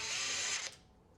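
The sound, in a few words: drill removing Phillips screw from induction cooktop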